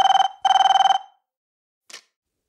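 An old-style telephone bell rings loudly in two close bursts of rapid trilling, then falls silent, followed by a brief faint click.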